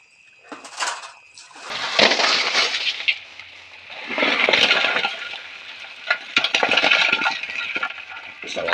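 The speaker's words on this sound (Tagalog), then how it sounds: "Buhos mo na yung tubig." Water pours and splashes in irregular bursts into a container, with clinks and knocks mixed in, fairly close and loud, running for several seconds.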